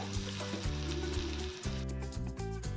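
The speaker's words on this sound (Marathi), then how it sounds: "आता आपला थाळीपीठ व्यवस्थित शेकलं आहे" A coriander thalipeeth flatbread roasting in a little oil on a pan, giving a steady, close sizzle with shifting tonal hum and a few soft scrapes, constant loudness, no talking.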